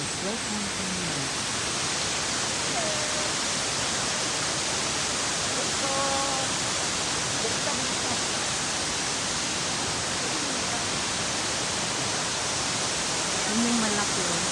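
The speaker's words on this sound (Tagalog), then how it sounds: "Ito ang Mimbalot Falls." Mimbalot Falls waterfall roaring as a steady, dense broadband rush that fills the whole stretch at close range, with faint birdsong or voices barely showing through the constant noise.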